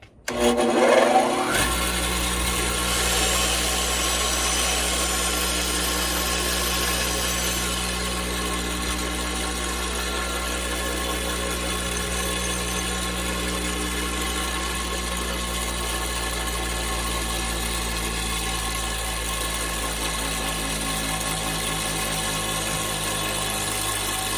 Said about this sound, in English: I've put a grinding wheel on my radial arm saw.